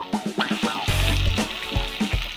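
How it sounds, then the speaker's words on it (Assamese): Half a kilo of broiler chicken drops into a hot pan and is stirred as it fries, giving a loud burst of sizzling with scraping stirs throughout, no talking. "ব্ৰইলাৰ মাংস হাফ কেজি, মানে আধা কেজি আমি এতিয়া ইয়াতে দি দিম। দি কিনে লৰাই লৰাই ভাজিম"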